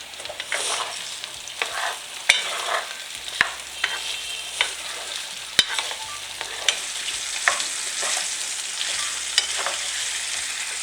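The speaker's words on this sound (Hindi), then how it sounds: "अब आलू को अच्छे से फ्राई करेंगे, थोड़ा इसका कलर चेंज होने देंगे।" Potatoes for kachori filling sizzle and fry steadily in a pan while a utensil stirs and scrapes them, with occasional sharp clicks against the pan, no voices.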